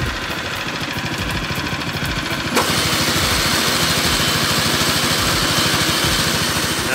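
A Scott Bonnar Rover 45 cylinder mower engine runs loud and close with a steady rapid chugging, its sound thickening partway through as the reel engages and starts whirring on a Sir Walter buffalo lawn.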